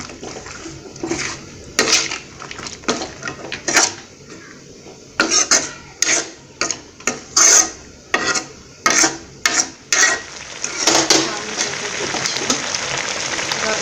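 A spatula scrapes and clinks repeatedly against a pan while a bean and potato fry is stirred. The strokes come in quick, fairly loud bursts with short pauses between them.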